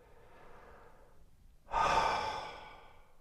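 One slow, guided exhale during a cardiac coherence breathing exercise comes after a quieter breath. The long, airy release starts suddenly, sounds close and soft, then fades gradually over about a second and a half.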